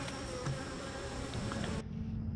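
Dense, steady buzzing of many honey bees swarming close around opened hives during a July inspection, continuous and loud before cutting off abruptly near the end.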